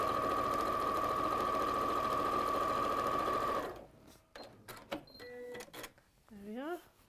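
Leftover fabric pieces being sewn together on a sewing machine: a loud, steady whirring run for several seconds that stops, followed by voices talking.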